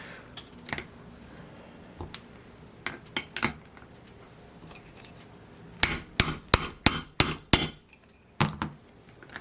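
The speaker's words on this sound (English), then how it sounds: "That last little smack, you can hear it going home, setting home." A rear bearing is tapped into an OS 40 FX model engine, with scattered sharp metallic knocks giving way to a quick, louder run of about eight close hammer smacks near the end.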